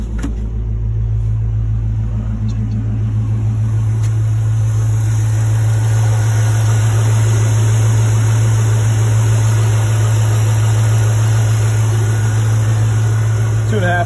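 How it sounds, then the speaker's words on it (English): A 2004 Jeep Wrangler Unlimited with a swapped 5.7 Hemi V8 idles through a two-and-a-half-inch exhaust and two-chamber muffler, giving a steady, loud, deep rumble that holds evenly for about fourteen seconds. "Two and a half inch exhaust all the way out the back, and two chamber muffler."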